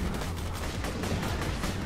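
Dense, continuous Borderlands 2 gunfire crackles without pause, a steady barrage of rapid shots filling the whole stretch at an even loudness.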